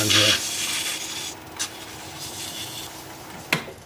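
Chestnut wood sanded on a lathe up through 400 grit, a soft steady rubbing rasp that starts louder and settles into a low continuous scrape, with a couple of brief knocks.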